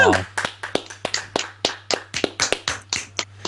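A quick run of hand claps, about a dozen sharp, close slaps in a steady rhythm, comes right after a brief burst of voice at the start.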